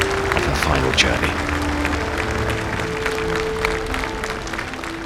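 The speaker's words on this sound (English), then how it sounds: "mourners spontaneously burst into applause" Mourners applaud steadily as the Queen Mother's funeral procession passes, a broad continuous crowd clapping with murmured voices mixed in.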